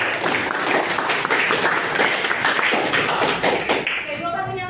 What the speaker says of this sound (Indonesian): tepuk tangan untuk Aul